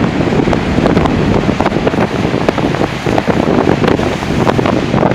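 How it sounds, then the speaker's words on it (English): Strong, cold, gusty wind buffets the microphone at a sunny lakeshore, a loud continuous roar with rushing surges throughout and no voices. "except for that really cold and really wild wind"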